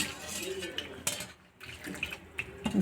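Water poured into a kitchen dish of raw tamarind rasam mixed with roasted gram powder, a short splashing trickle among faint clinks of pots and utensils, close and fairly quiet.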